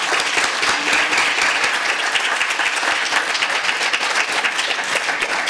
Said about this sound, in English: could we give a round of applause for Arian and Miriam?